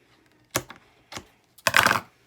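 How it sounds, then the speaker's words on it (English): Three short cutting sounds made while cutting material for a DIY Valentine's love door hanger, close and fairly quiet, the last one longer and louder, with silence in between. "And I'll go ahead and cut it."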